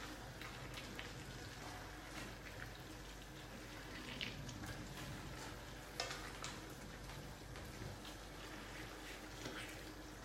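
Chilli con carne stirred in a pot gives a soft, continuous scrape and a low sizzle with small clicks of the spoon, steady and fairly faint.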